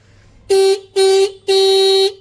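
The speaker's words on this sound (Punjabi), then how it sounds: "ਆ ਛੋਟਾ ਹਾਰਨ ਚੱਲ ਪਿਆ" The small, modified, hoarse-sounding horn on a Hero Splendor motorcycle honks three times close up: two short toots and then a longer blast.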